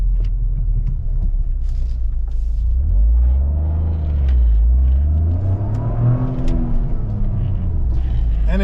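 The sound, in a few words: Toyota GR Corolla exhaust noise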